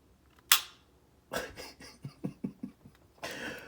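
Close, quiet mechanical clicks from a Sig Sauer P365X pistol's trigger reset: one sharp snap, then a quick run of softer clicks and a final crisp burst.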